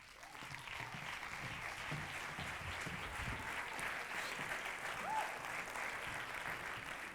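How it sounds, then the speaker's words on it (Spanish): Sustained audience applause at a gala honoring a performer, a steady dense wash of clapping throughout, loud and even, with no talk over it. "Les pido un fuerte aplauso para Pepe Lirrojo"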